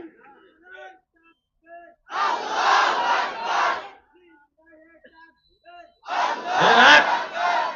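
A large crowd at a Bengali Islamic religious sermon shouts takbir twice in loud, unified bursts, each a couple of seconds long, between short spoken calls from a single man.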